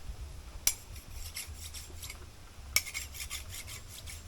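A metal file rasps rhythmically against bamboo outdoors in a bushcraft setting, soft repeated scraping strokes with two sharp clicks standing out.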